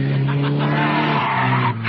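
A car engine roars hard while tires screech and skid, a dense, loud, continuous burst of motor and rubber noise in a dramatized scene.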